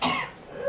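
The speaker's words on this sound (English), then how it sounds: "You got a cough there" A single short, close cough, one harsh burst that fades quickly.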